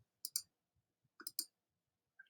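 Mouse clicks on a Google Slides card deck, a few sharp, quiet clicks in small pairs separated by near silence, with one faint extra tick near the end.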